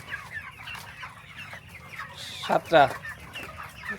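Broiler chickens on a farm cluck softly throughout, with a couple of louder squawks near the middle, under quiet background talk from people nearby.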